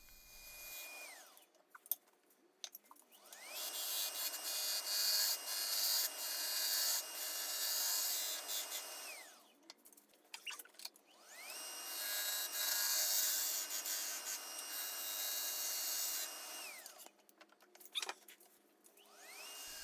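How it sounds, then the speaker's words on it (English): Abrasive sanding on spalted apple wood spinning on a lathe, two long steady rasping passes with a brief pause between, close and loud over the constant whine of the lathe motor. "I'll sand it a little bit while I've got it on the lathe."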